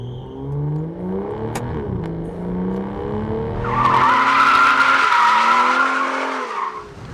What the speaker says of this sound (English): All that squealing you heard was the big carbon ceramic brakes hauling this sucker to a stop in 100 feet